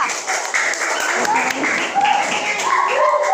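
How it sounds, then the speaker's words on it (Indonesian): A class claps for a student discussion group at a teacher performance assessment session, with steady clapping running throughout under voices and some talk. "Kasih tepuk tangan dulu untuk kelompok 2."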